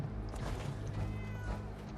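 A cat meows in the video game Fallout 4 (Far Harbor), one short, faint, drawn-out mew heard alone.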